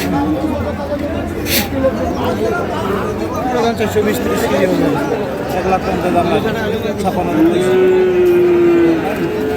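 Cattle at a bull market moo, with a long drawn-out low call near the end, over constant crowd chatter and close conversation at a busy livestock haat.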